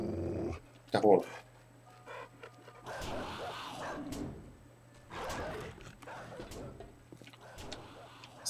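A hostile dog in the survival video game 7 Days to Die growls and snarls in several uneven bursts, with a sharp yelp-like bark near the start and a steady game hum underneath.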